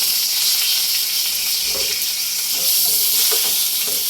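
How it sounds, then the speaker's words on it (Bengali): Whole spices (bay leaf, cardamom, cinnamon and cloves) hit hot oil for tempering, giving a loud, dense, continuous sizzle with faint stirring clinks and no talk. "ফোড়ন দিয়ে দিচ্ছি"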